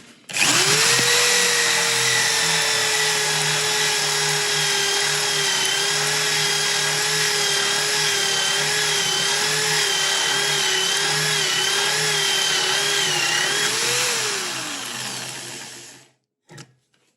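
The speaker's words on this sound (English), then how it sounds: "Now when you're using a hole saw in timber, you do this." A power drill with a 44mm hole saw bores through timber in one continuous whine of about fifteen seconds, loud and close, the pitch wavering slightly as it cuts before winding down and stopping.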